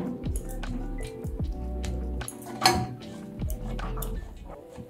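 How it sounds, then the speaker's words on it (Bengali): Carrot puri dough is kneaded and rubbed with refined oil, producing repeated close, soft, sticky squishes with occasional light clicks and clinks. "অয়েল মাখিয়ে এটা ভালো করে ঘেঁষে নিলাম।"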